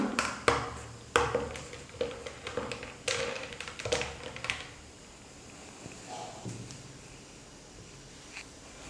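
Watermelon juice with pepper is stirred lightly with a spoon, making a run of close, bright taps and clinks that fade into quieter scraping near the end.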